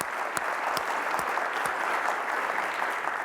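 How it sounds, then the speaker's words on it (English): An audience at the AtlasCamp 2014 software keynote claps in a continuous, even round of applause lasting a few seconds, with a few sharper claps standing out. "Round of applause."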